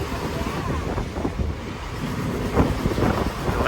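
Wind rushes through the open window of a speeding bus on the bypass road from Cuddalore to Pondicherry, a steady loud roar with engine rumble beneath it.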